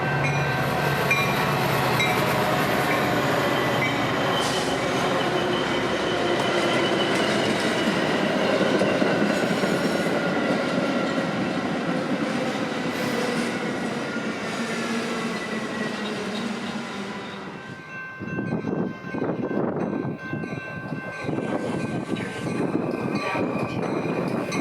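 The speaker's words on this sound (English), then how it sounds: "Now at the top of the hour, two more Metros would pull up." Metra commuter trains pull into a Chicago station, a long steady rolling rumble with wheel clatter and squeal that drops away sharply near the end, leaving quieter intermittent rail noise.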